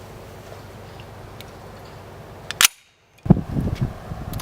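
An FN FAL rifle's magazine is rocked out of the gun, giving a sharp metallic click followed after a brief silence by a short rattling clatter, close and fairly quiet.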